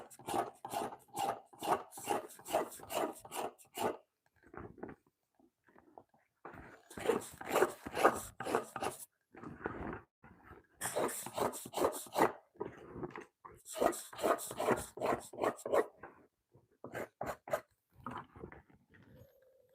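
Buckskin hide being scraped in long runs of steady rhythmic strokes, close and rasping, with short pauses between sets and no talk.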